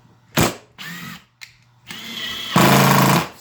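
A new Makita LXT brushless sub-compact impact driver runs in several short loud bursts, the last one longer and harsher, with near, close-up whirring and rattling between brief pauses.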